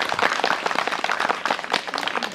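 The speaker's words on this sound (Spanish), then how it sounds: "Fuerte el aplauso para el maestro." A live audience claps warmly to welcome a guest musician on stage, giving a dense, steady burst of applause throughout with no pauses.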